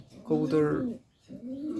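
Racing pigeons cooing in two soft, throaty bursts separated by a short pause, close by with faint background noise.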